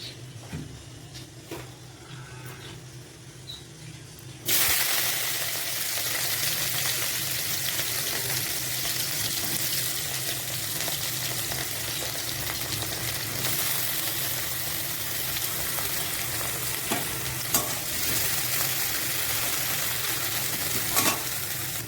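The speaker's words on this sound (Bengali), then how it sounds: "কড়াইতে আমি তেল গরম করতে বসিয়ে দিয়েছি, তেলটা গরম হয়ে গেছে। এবার আমি করলাগুলো ভেজে নেব।" A few seconds of quiet kitchen noise, then a sudden loud burst of sizzling as bitter gourd hits hot oil in a wok, frying continuously and evenly up close.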